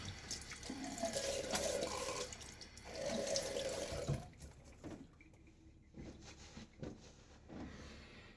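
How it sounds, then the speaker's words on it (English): Tap water runs steadily into a bathroom sink while a face is wetted before a wet shave, a continuous close splashing that breaks off around four seconds and gives way to quieter intermittent trickles and handling sounds. "let's get my face wet again and then put the lather on"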